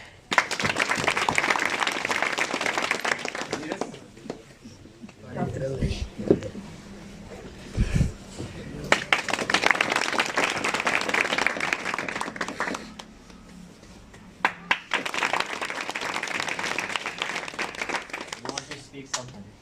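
Bursts of applause and clapping from a class of students, broken up by stretches of talking, with the clapping swelling back in several times.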